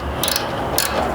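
Light bar mounting hardware is tightened on a Blitz winch bumper of a Nissan Frontier, giving two short, bright ratcheting bursts about half a second apart, close and fairly loud, over a low background hiss.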